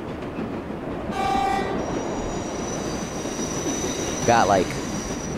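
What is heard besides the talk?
subway train approaching in World of Subways video game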